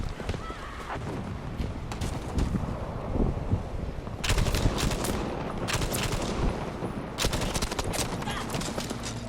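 Gunfire in the video game Battlefield V: sharp broadband bursts of shots crack out in short clusters over a constant rumble of game noise, with the loudest volleys arriving in the second half.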